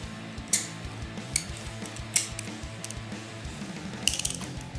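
A hand ratchet clicks in short bursts while loosening 27 Torx screws on the handlebar of a Harley-Davidson Softail, four or five sharp, close metallic ratcheting strokes spaced about a second apart over a low steady background hum.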